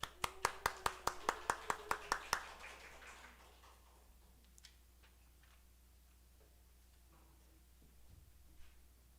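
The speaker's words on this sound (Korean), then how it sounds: "우리 큰 박수로 한번 환영하도록 하겠습니다." A Sunday morning church congregation breaks into a short burst of clapping, about a dozen sharp, evenly spaced claps over two seconds, then a quiet room with faint scattered sounds.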